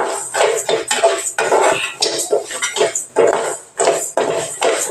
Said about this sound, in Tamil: ஸோ லைட்டாக நம்ம வறுத்து எடுத்துக்கலாம்.